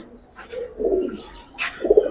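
Giribaz pigeons coo in low, throaty bursts, two main rolling calls close by with a brief higher chirp between them, no voices present.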